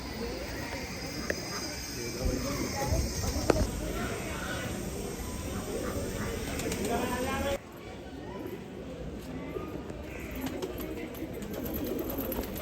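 Pigeons coo steadily in the background inside a gurdwara while a person talks over a constant roomy hum.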